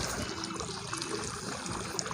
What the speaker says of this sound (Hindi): यहाँ पर देख सकते हैं कितना पानी चल रहा है